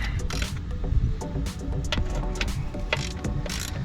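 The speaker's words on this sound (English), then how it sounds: "we're going to take our fill plug out first" Ratchet wrench loosening the 18 mm fill plug on a GMC/Chevy transfer case, a steady run of close, rapid metallic clicks with faint clanks under a continuous low hum.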